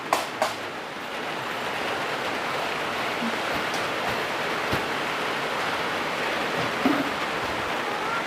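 Steady rain falls, a continuous broadband hiss that stays even and fairly loud throughout.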